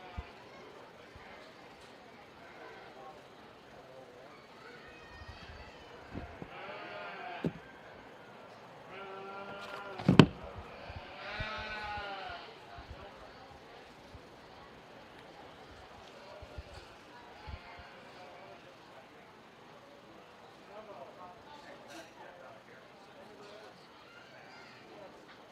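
Sheep bleat in short bursts during a county fair sheep show at the Dickinson County Fair, rising over steady crowd chatter and arena murmur, with a louder call near the middle.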